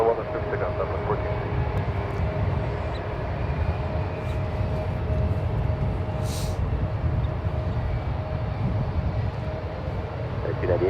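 An airliner taking off from runway 1 left at San Francisco International Airport, heard as a steady, fairly distant engine roar and rumble with a faint hiss, with no talk over it.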